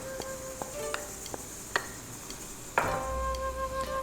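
Shallots go into a pan of Thai basil chicken, and a loud burst of sizzling and frying starts partway through, following a few light clicks and stirring taps.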